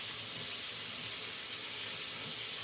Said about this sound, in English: So I'm gonna rinse and see what that feels like.